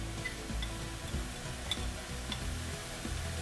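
Cumin powder goes into a hot pan with green chilies for a Bengali-style cauliflower roast, and a spoon stirs and scrapes while a soft sizzle runs underneath, quiet and close, with a few light clicks.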